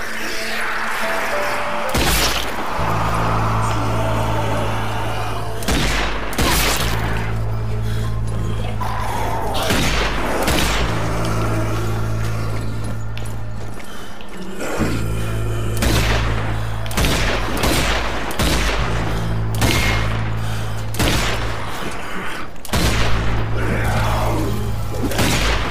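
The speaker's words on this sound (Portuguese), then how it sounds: "Eu tento dar tiro na cabeça, mas não dá, velho." Gunfire against zombies in the video game Zombie Army 4: Dead War, with loud bursts of shots and thuds at irregular intervals over a droning game soundtrack, no talking.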